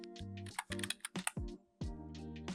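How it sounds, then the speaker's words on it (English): Typing on a computer keyboard, a short run of quick, close key clicks entering a search word, with faint tones between the keystrokes. "I'm going to type in golf."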